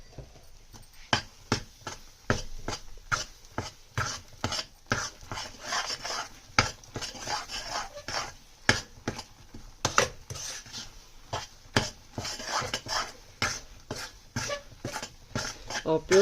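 A spoon scrapes and knocks against a pan while semolina milk sweet is stirred with pure ghee, making a steady, repeated rhythm of close clacks and rubbing scrapes that carries on throughout.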